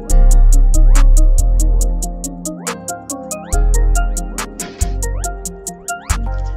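Simple beat melody slowed to half speed, with plucky tones over deep bass hits and crisp repeated percussion ticks in a steady rhythm, loud and alone without talk.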